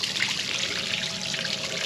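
Water flowing out of a drain in bitter Mongolian winter cold, a steady, close trickle and splash that runs without pause and with no talk.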